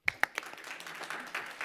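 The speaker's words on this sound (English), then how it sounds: "Let's do some more clapping." Workshop attendees at an author event clap after a letter-writing session, starting with a few sharp, distinct claps, then a lighter scattered patter of applause from a small group, fairly quiet and brief.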